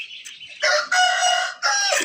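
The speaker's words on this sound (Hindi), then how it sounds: "ये मुर्गी मैं ले आया हूँ।" A chicken in a village setting calls out in loud, close, harmonic bursts, three squawking phrases in quick succession with no talking.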